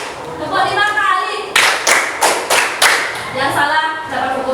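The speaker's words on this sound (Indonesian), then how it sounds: "tepuk 5 kali" Five sharp hand claps in an even rhythm, close by, in a classroom clapping game, with a voice speaking Indonesian just before and after them.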